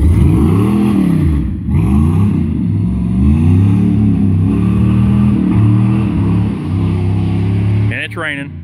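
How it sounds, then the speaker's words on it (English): A 1996 teal Pontiac Firebird runs loud and steady with low, wavering engine tones that rise and fall as the throttle changes, plus a brief sharp rising sweep near the end. "We just finished this 96 Teal Pontiac Firebird."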